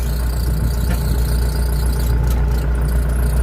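Scout TY-404 C tractor ploughing a neighbour's garden plot, a loud steady engine drone with a deep low throb and a constant whine over it.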